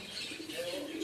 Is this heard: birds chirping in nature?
yes